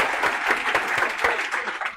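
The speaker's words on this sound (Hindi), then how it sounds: "एक बार ताली बजा दो।" A class of students claps together in a lecture room after being asked to applaud a classmate from Haryana, a brief, dense burst of mid-level applause with no talking over it.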